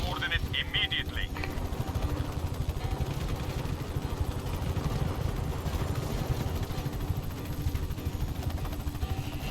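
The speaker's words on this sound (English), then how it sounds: "Thought I heard some other helicopter," A helicopter in the video game Just Cause 3 thrums with a steady rotor chop and engine whine, continuous and close throughout, with a brief burst of high beeping near the start and no clear talk.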